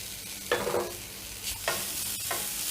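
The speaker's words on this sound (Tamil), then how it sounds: "இப்போ எல்லாத்தையும் ஒன்றா கலந்து தேங்காய் நிறம் மாறுற வரைக்கும் அதை ரோஸ்ட் பண்ணி எடுத்துக்கோங்க" Grated coconut and spices are stirred and dry roasted in a pan over low heat, with a few distinct scraping stirs and a soft, steady sizzle between them.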